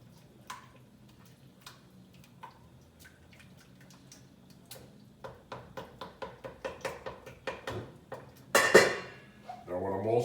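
Spoon stirring two tablespoons of tomato paste into sauce in a cooking pot, a quickening run of light scraping ticks and knocks against the pot, close, ending in a louder clatter.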